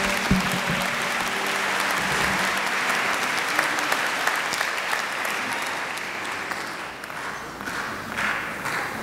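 Commencement audience applauding, a dense sustained wash of many hands clapping that rolls on steadily, loud and crowd-sized, then tapers slightly toward the end.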